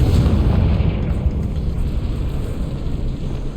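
A Confringo blast in Hogwarts Legacy bursts with a heavy, deep rumbling boom that fills the scene and slowly rolls off, with no voices over it.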